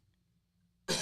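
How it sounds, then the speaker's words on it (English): After nearly a second of quiet room hiss at an open mic comedy show, one sharp, loud cough erupts abruptly at the very end. "there's a cough."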